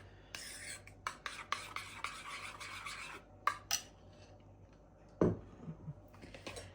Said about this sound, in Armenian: Լավ խառնում ենք։